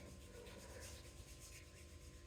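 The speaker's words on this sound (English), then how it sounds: "And rubbing your palms together" Palms rubbed together during a yoga class in Mysore, India: a soft, steady, continuous friction hiss held close and quiet, with no talking.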